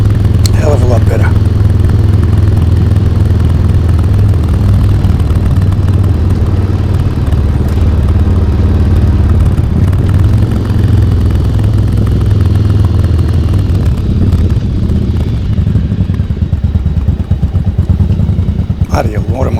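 A motorcycle rides along a concrete road, its engine a continuous low rumble with steady road noise throughout, loud and close, while a rider talks over it.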